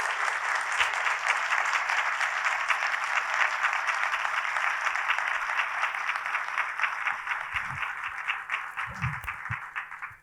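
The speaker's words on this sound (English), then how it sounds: "Please give them a round of applause" An audience gives sustained applause for honorees gathered on stage at an excellence awards event, a dense, even roar of clapping that holds steady and then gradually thins out near the end.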